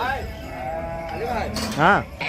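Several sheep bleat at the Gudur sheep market, wavering calls overlapping one another, the loudest burst near the end, with a faint murmur of talk beneath.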